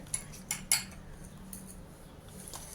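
Metal utensils clink and tap against a plate as ground spices for a pomfret tawa fry are mixed together, several sharp scrapes early, then quieter scattered taps.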